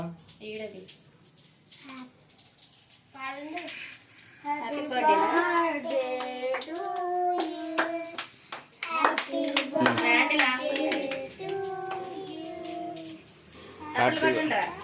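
People clapping their hands at a child's birthday party, a loose run of claps from a small nearby group, mixed with children's voices and adults talking.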